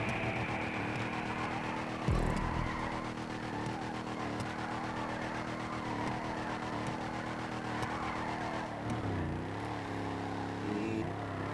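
Drift truck engine in GTA 5 Online, lowered to the ground, droning steadily with harmonic engine tones, a brief thump near the start and a pitch dip as it shifts gears later on.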